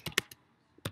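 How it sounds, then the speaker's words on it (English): Computer keyboard typing, a few sharp, close key clicks in a short quick burst, then a pause and one more click, heard alone in a quiet room. "let's type here"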